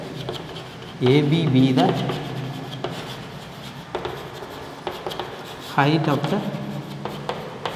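Pen scratching out a trigonometry solution on paper in short rubbing strokes while someone talks over the writing, close and clearly audible between his words.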